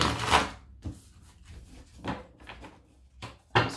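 Tarot cards shuffled in a few separate bursts, quick papery slaps and riffles spaced by brief pauses, fairly close and clear with no talk.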